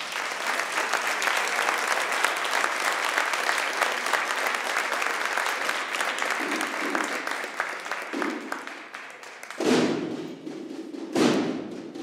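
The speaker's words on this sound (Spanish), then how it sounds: "Un fuerte aplauso para él." Loud, sustained applause from a large audience at a national processional music competition in Sahagún, a dense wash of clapping that fades near the end, followed by a couple of heavy thuds.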